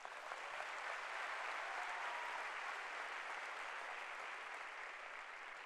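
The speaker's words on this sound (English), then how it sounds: "Give yourself a round of applause." Seminar audience giving a sustained round of applause, a dense even wash of many hands clapping at once, steady and fairly distant throughout.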